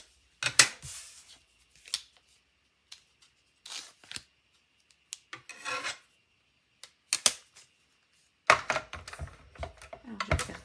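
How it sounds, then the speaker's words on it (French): A small paper-cutting machine slicing through card, heard as scattered short rasping cuts and scrapes separated by silences, close and fairly quiet, with no voices. "Je vais prendre ma petite machine. Et je vais venir découper tout ça."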